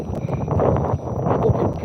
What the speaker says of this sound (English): It definitely is a bit wild and windy up here today.